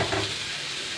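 Fajitas sizzle in a hot pan in a home kitchen as they are stirred, giving a steady, close, hissing frying sound with no voices.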